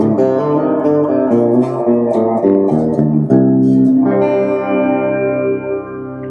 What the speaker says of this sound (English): Then you have a different reverb on the second button.